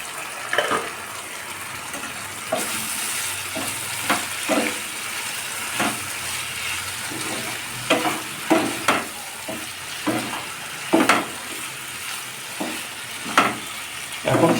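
Drumstick stems coated in mustard paste fry in a pan for a Bengali chorchori, with a steady sizzle broken by repeated sharp scrapes and taps of a spatula stirring close by, no talking.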